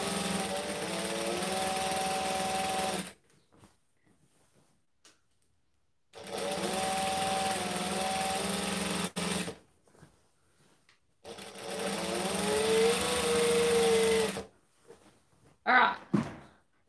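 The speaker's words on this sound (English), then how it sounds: "all I have to do is make sure that the fabric is feeding in there and it's stitching it shut" A sewing machine stitches a rolled hem on fabric in three steady whirring runs of a few seconds each, separated by quiet gaps, ending with a few short clunks and handling knocks.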